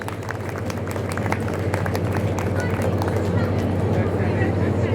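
An audience claps for students at a school prize distribution ceremony, a dense, steady patter of applause that is fairly subdued and continuous, with someone speaking over it.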